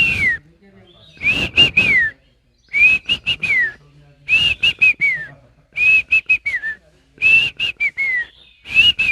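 A man whistles an imitation of a house sparrow's dawn call, a run of short chirping phrases with falling trills repeated about seven times, loud and close, with brief pauses between bursts.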